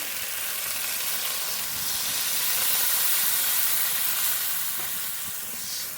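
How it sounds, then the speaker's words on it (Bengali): Water is poured into a pan of potato and spice curry, setting off a loud, steady hiss and sizzle of steam close by that swells and eases slightly, with no voices. "মশলা আলু ভালো করে মিশিয়ে দেবো এবার জল দেবো জল"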